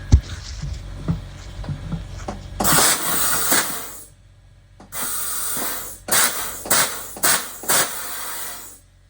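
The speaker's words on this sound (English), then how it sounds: "trying to inflate a trailer tire here" Air hisses in loud bursts while a trailer tire is inflated. A broad rush runs for about two seconds, stops, then returns as a string of shorter spurts with brief gaps between them.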